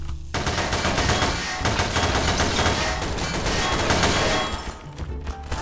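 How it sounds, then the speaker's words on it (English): Gunfire in Garry's Mod DarkRP: dense, rapid automatic shots rattle continuously and loudly, several weapons overlapping in a fusillade before easing slightly near the end. "They're shooting through, but we can't shoot back."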